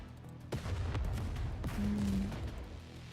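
Missile barrage and heavy explosions in the video game NIKKE: dense rumbling booms with a few sharp impacts layered over a constant low roar, fairly quiet overall.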